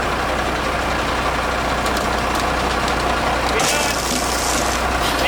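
A monster truck's 8.3-liter Cummins turbo diesel engine idles with a steady low rumble, while a voice talks over it nearby.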